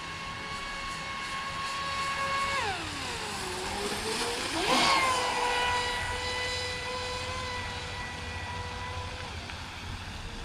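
A Traxxas Disruptor RC car makes a speed run, its high electric whine climbing and dropping in a sharp Doppler pass around the middle, loudest as it goes by close, then steady and more distant.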